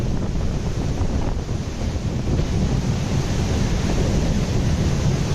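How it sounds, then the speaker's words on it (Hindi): River water pours through an open lock gate at Farakka Barrage on the Ganges, a constant broadband rushing roar mixed with wind buffeting, with no talk. "जिस लॉक गेट को खोल रखा है उससे पानी निकलता हुआ दिख रहा है"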